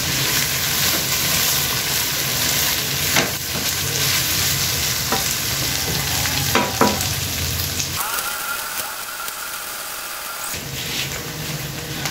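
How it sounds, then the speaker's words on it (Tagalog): Spaghetti sauce stirred in a sizzling pan, a steady frying hiss with scraping spoon strokes and clinks close by, briefly cutting out before the sizzle returns. "buksan na natin ang ating ihalo muli, yung ating ginagawang salsa"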